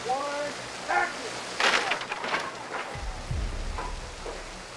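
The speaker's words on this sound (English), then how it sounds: "we're gonna do a test of the rain and the level of the rain" Artificial rain falls on a film set during a stunt rain test, a steady hiss of water under scattered voices and crew calls, with a couple of low thumps partway through.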